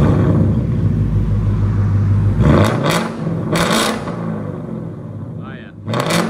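A Ford Mustang Roush Stage 2 with straight-piped exhaust rumbles loudly at a low idle, then lets out several sharp, loud bursts as it revs, with short quieter gaps between them.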